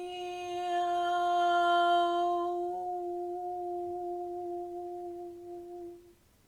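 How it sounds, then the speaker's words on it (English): A single sustained voice intones the bardic Awen chant, a long steady sung tone with rich overtones that fades after about six seconds, sounding alone in a quiet space. "That is the sound of the Arwen, which is the ancient sound of inspiration that the bards used to sound 3 times before they told a story."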